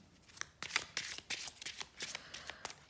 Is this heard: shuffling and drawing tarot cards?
yes